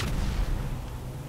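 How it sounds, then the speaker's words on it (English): Loud, dense low rumbling blast from explosions in the video game GTA 5, a sustained booming roar that fills the moment without any voices. "Somebody throwing explosives at me?"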